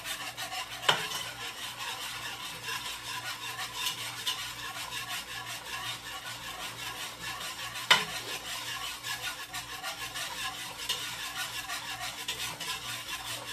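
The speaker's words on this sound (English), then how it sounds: "you pretty much just want to whisk this really good" A roux of butter and flour being whisked in a pot for one-pot mac and cheese, giving a steady, quiet scraping and stirring texture with a faint sizzle and two sharper taps of the whisk against the pot.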